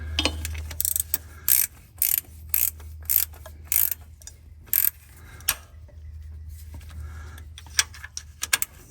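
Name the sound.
ratchet tightening a bolt on an Escalade transmission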